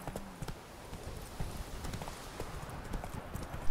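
Horse hooves clip-clopping at a steady riding pace in The Witcher 3, fairly quiet and continuous over soft game ambience, with no clear speech.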